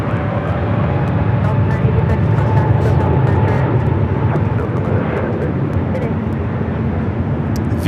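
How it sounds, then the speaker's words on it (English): A Viva Aerobus Airbus A321neo takes off at LAX bound for Monterrey, a steady, broad jet roar holding loud and even throughout, with faint voices under it. "It's taking off to Monterrey, Mexico, the A321neo"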